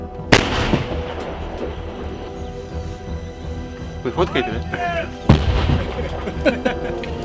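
Two heavy artillery shots boom out on the eastern Ukrainian front, the second louder and closer, amid outdoor rumble and brief talking voices.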